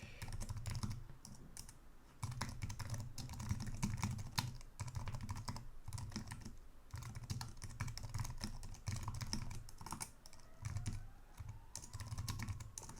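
Steady keyboard typing while code is entered on a computer, rapid clustered keystrokes continuing throughout with brief pauses, close and fairly quiet, no voices.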